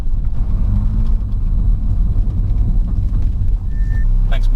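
A supercharged 216 bhp Ford Focus drives on the road with a loud, close, low engine rumble. A brief tone rises near the end.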